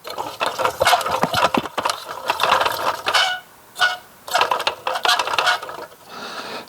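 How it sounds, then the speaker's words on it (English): A La Crosse TX144W wind speed sensor with a sticking propeller, spinning with a rapid metallic grinding rattle that comes in uneven bursts, stops briefly, then starts again close up. "this propeller on the top is kind of getting stuck, and even when it's spinning it's making this funky sound"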